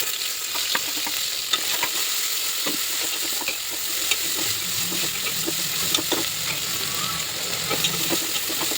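Spices fry in oil for prawn biryani, a steady close sizzle layered with irregular stirring clinks and scrapes throughout.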